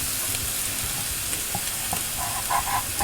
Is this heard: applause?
no